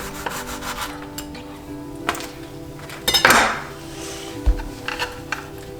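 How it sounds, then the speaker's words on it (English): A knife slicing an heirloom tomato into thin slices on a cutting board, quiet rubbing strokes broken by a few sharp knocks of the blade against the board, close up and without talk. "And then I'm just gonna slice my heirloom tomato."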